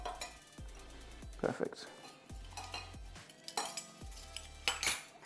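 Cointreau margarita being stirred in a glass, with spoon clinks and clatters against the glass in short bursts, close up, and a brief spoken word near the end.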